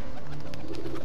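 A pigeon in the video game Assassin's Creed II coos in a soft, low warble close by, a short burst of throaty calls heard alone without speech.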